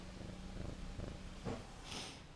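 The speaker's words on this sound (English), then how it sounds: "we've got the cat with us" Domestic cat purring softly and close at home during a cuddle, a low rhythmic rumble with a couple of faint breathy snuffles.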